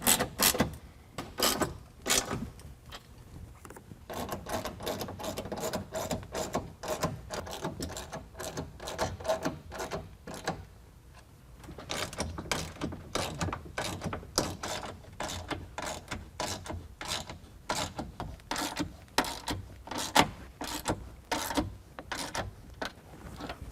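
Ratchet wrench tightening 13mm and 9/16 bolts on roof rack brackets of a 2022 Jeep Wrangler, installing a Go Rhino SRM500 rack; rapid repeated clicking in long runs with a brief pause midway, close and clear, no talk.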